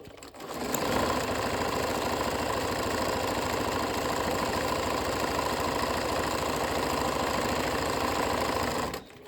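A sewing machine runs steadily, stitching two fabric layers together for a zippered cushion back, a continuous close mechanical whir with rapid needle rhythm that starts abruptly and holds level for about eight seconds with no talk.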